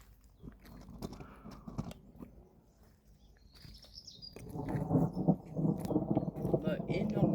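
Thunder rumbles from a strong electrical storm with heavy rain over Montady, a low rolling swell building in the second half, while birds chirp in the distance and a few voices are heard earlier on.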